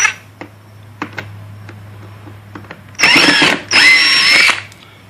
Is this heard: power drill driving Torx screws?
yes